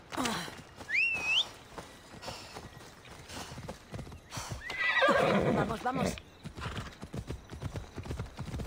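A horse in the video game Assassin's Creed Odyssey gives a shrill neigh over steady clip-clopping hooves, with a second whinny midway, close and clear amid game sound.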